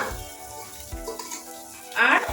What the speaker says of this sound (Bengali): পেঁয়াজ রসুন একদম হালকা করে ভেজে নেব এর সঙ্গে দিয়ে দেব সিমলা মির্চি